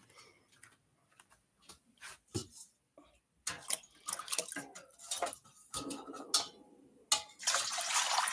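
Close, intermittent clinks and knocks of a dish being handled, followed by a steady splash of water pouring into it near the end. The sounds are quiet and sparse at first, then grow louder and busier.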